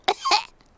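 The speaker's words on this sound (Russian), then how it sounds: "У меня кашель." Two short, harsh coughs in quick succession, close and clear, followed by quiet.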